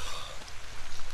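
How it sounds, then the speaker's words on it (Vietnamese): Light rain beginning to fall at night in the humid Amazon rainforest, a close, fluttering wash of raindrops with no talk. "trời ở đây mưa hàng đêm và đã bắt đầu lất phất mưa rồi"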